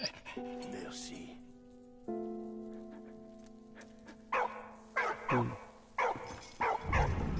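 A dog in the World War I video game Valiant Hearts pants and gives short yips and barks in bursts alongside game music tones, with someone talking over it.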